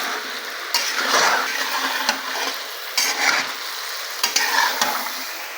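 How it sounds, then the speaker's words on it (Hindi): Chicken pieces sprinkled with salt fry in a pan for a creamy white chicken dish, giving a steady close sizzle with brief stirring scrapes and clatters running through the whole stretch. "ऐसे करके इस पर स्प्रिंकल कर देंगे और इसको इसी तरह से हम फ्राई करेंगे"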